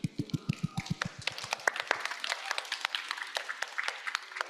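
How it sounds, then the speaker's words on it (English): An audience at a medical diagnostics side event applauds: a few loud, evenly spaced claps swell into dense, steady clapping from many hands, close and clear with no talking. "it would be great if you can give them a round of applause"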